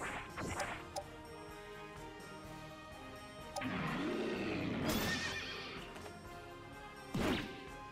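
Horse neighs and whinnies from the strategy video game Brigandine: The Legend of Runersia, in three loud bursts, the longest a drawn-out whinny in the middle, over steady game background sound with a hint of hoof clops.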